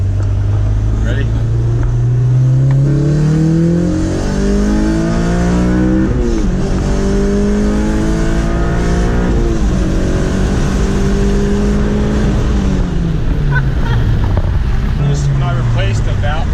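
A tuned Honda Civic Si revs hard and loud, its engine note climbing repeatedly through the gears with brief drops between shifts, with voices heard at times over the roar.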